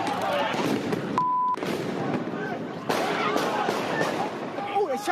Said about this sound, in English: You can actually see the flashes from the gunfire and hear the shots.